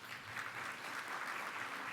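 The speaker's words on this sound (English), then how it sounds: "I think you all deserve a round of applause for each of the counties again." Faint, distant applause from attendees at a regional planning agency's annual luncheon, a brief even patter of many hands clapping in a large room.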